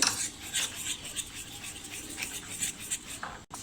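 A spoon stirs and scrapes batter in a bowl, mixing cornflour into an instant kharvas pudding mix, with steady, close scraping and clinking strokes repeating throughout, no talking.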